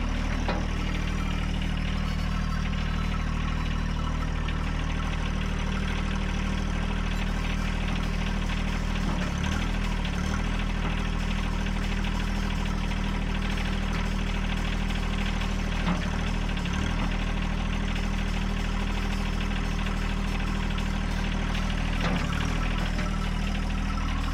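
A John Deere diesel tractor engine idling nearby with a steady low rumble and faint rhythmic knocking, continuous and loud throughout with no talk.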